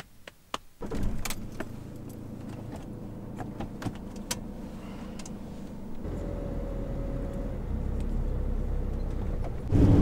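A camper van on a road in Scotland, heard from inside: a low steady engine and road rumble that builds after a few early clicks and knocks, continuing to the end.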